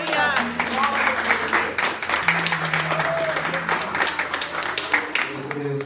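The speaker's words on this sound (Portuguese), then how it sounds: "Suas palmas louvem e agradeçam o nome dele." Congregation clapping during a Holy Communion church service, dense sustained applause from many people with voices and sustained musical tones beneath, loud and continuous throughout.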